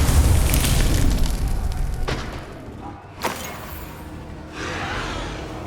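A Confringo fire spell from Hogwarts Legacy bursts in a booming blast, followed by a sharp crack near the middle and a softer pop later, with a rumbling tail between the hits.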